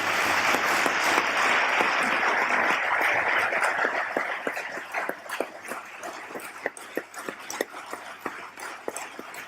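Audience applause at a Catholic public-life congress starts as a dense, loud wash of clapping, then thins into scattered separate claps that fade toward the end.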